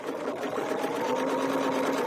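A domestic sewing machine stitching a quilt runs in a steady, fast mechanical whir at close range for a couple of seconds, with no voices.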